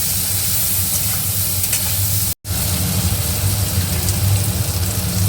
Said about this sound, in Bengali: নুন আর হলুদ দিয়ে কুমড়োটা একটু ভাজা ভাজা করবো